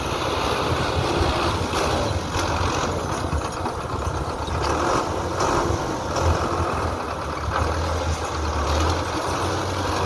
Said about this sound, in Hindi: ट्रैक्टर का टोरा चेक करो दोस्तों।